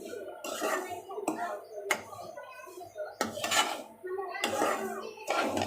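A spoon clatters and scrapes in a pan as semolina is stirred with melted ghee, giving irregular metallic clinks and knocks. A voice speaks intermittently throughout.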